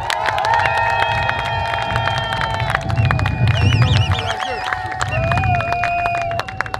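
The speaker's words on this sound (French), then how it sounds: "Je vous demande, mesdames, messieurs, d'applaudir pour M." A rally crowd in Washington, DC cheers and applauds for Maurice Kamto, with dense sustained hubbub, whistles and shouts layered over steady clapping throughout.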